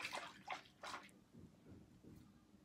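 A collar is stirred in soapy water, giving a few soft swishing sloshes at first, then quieter, gentler churning of the liquid close by.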